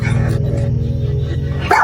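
A dog barks at a door in a tense household moment, a steady, loud, close vocal sound that holds for about two seconds with a sharper burst at the end.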